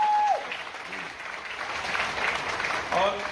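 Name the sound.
audience applause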